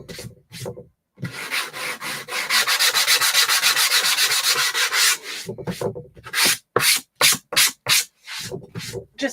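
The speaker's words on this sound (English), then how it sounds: "we're actually going to give it a quick little sand" Sandpaper rubbing quickly over a wooden craft piece after its staples were pulled, a steady close scratchy rasp running for several seconds, then short separate strokes at the end, with no talking.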